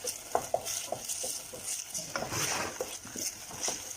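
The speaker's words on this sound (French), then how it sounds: "faites légèrement frire votre poivron" Bell pepper fries gently in a pan over low heat as it is stirred, giving a soft sizzle with repeated clinks and scrapes of a utensil against the pan.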